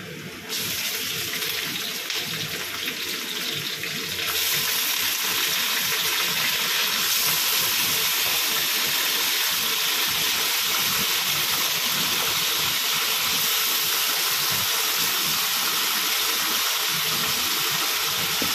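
Beef goes into a pan of wilted onions, setting off a loud, steady, broadband sizzle that grows fuller partway through and keeps going with no talk.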